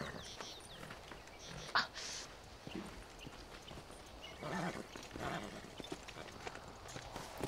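Horse hooves clip-clop while riding in the Western video game Red Dead Redemption, a soft, irregular patter of steps under game ambience with a few louder thuds.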